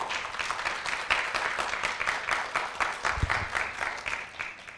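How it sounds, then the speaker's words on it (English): A conference audience applauds in a steady run of claps, moderately loud and even, continuing without talk. "So round of applause for her"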